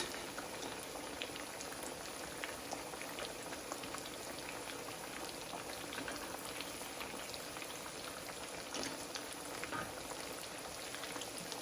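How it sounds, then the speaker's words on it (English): Steady, dense sizzling and crackling of catfish frying in hot oil, close and continuous with no talking. "this fish is going to fry about 3 to 5 minutes"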